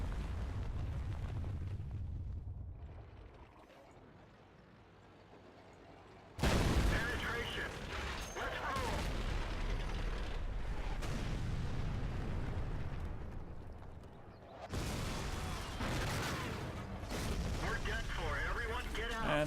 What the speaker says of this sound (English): the inevitably artillery hit.